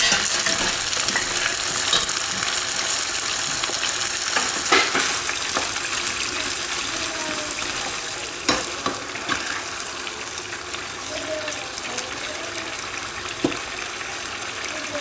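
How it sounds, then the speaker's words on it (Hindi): Meat frying in a pot for pulao, a constant dense sizzle with scraping stirs and occasional clinks of the spoon against the pot, steady and close for the whole stretch, with no talking. "तो ये इधर तला जाएगा"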